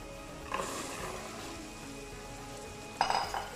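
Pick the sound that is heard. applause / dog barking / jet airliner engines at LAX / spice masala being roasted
spice masala being roasted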